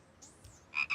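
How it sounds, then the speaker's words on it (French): A small frog gives two short, close croaks near the end, preceded by a faint whistling tone over quiet background. "Hé, petite grenouille, j'imagine que tu te diriges vers le grand étang là-bas"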